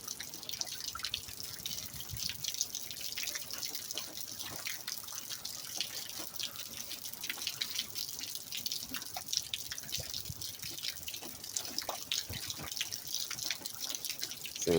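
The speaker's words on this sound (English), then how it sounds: "Getting rained on." Rain drips and patters steadily and close by for the whole stretch, with a dense crackle of small, irregular drops and no voices.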